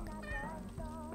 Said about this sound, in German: Miauts.